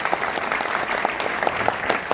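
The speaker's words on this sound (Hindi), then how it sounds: "धनेश जी बोगावत के लिए एक बार जोरदार तालियां बजाएं" Applause for Dhanesh Bogawat at a golden era music concert, a brief burst of many hands clapping steadily from the audience.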